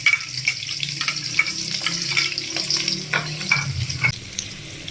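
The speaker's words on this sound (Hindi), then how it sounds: "चलिए हम इसमें हाफ कप ऑयल शामिल करते हैं। इसमें प्याज ऐड करते हैं।" Chopped onions fry and sizzle in half a cup of hot oil in a pot while being stirred, a steady close hiss broken by light scraping and taps from the spoon.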